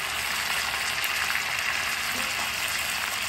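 Chicken frying in a pan, giving a dense, even hiss of sizzling oil that holds steady and close for a few seconds with no talk over it.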